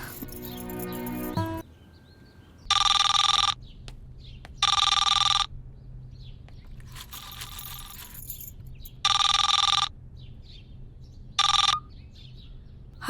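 A telephone rings in about five loud, evenly spaced electronic bursts with quiet gaps between them, heard alone in an indoor household scene from a Bhojpuri film, with no talk.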